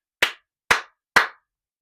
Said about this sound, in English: Sorry for those loud claps closing out the reading